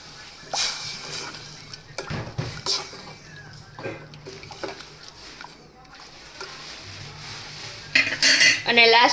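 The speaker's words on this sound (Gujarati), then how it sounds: "અને સરખી રીતે હલાવીને તેને મિક્સ કરી લેશું" A spoon stirs stuffed onion-potato curry in a metal pot with intermittent clinks, scrapes and knocks against the sides. A brief louder clatter of metal comes near the end.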